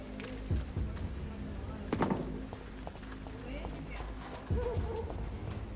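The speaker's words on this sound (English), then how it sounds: "Bird." A pigeon or dove coos nearby in a few soft, low, repeated calls spaced several seconds apart over quiet outdoor background noise.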